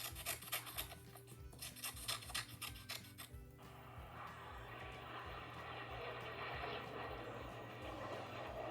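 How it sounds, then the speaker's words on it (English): A jet airplane flying over, as a sound effect, begins with scratchy rubbing noises and then swells into a steady, broad roar that fills the rest of the clip. "I think it's the air show. Airplane. A jet."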